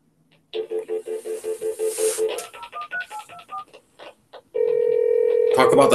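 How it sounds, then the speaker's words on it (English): A telephone call is placed: a rapid run of keypad beeps, then a sequence of varied dialing tones, then a steady loud ringing tone near the end, with no talk. "I'm going to make a quick phone call."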